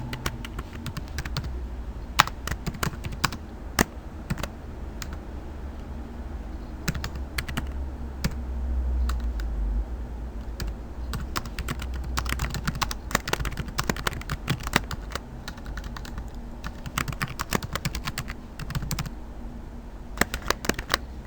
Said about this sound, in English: So let's type our text first.